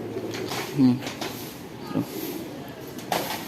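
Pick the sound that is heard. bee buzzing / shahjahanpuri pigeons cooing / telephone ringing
shahjahanpuri pigeons cooing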